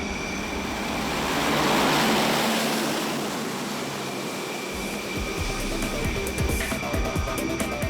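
E-2 Hawkeye propeller aircraft taking off from the French aircraft carrier Charles de Gaulle: a loud broad roaring rush that swells and fades, with a steady engine drone and mechanical clatter toward the end, no speech.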